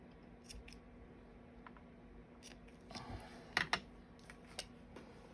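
Scissors trimming the edges of a paper craft piece, a few quiet snips and crisp clicks scattered over a low room hum, with a couple of louder cuts near the end.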